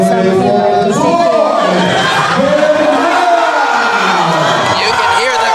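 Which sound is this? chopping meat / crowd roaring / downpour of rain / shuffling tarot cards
crowd roaring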